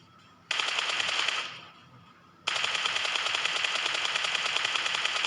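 Rapid automatic gunfire in the video game PUBG Mobile bursts out loud and dense, pauses briefly to a quieter background, then resumes in a long sustained rattling stream.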